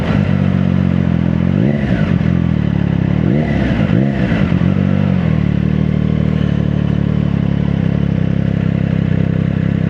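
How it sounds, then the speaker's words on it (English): A 2024 Triumph Daytona 660 motorcycle engine runs steadily up close, with a couple of brief throttle blips rising and falling early on over a constant idle hum. "a Triumph Daytona 660"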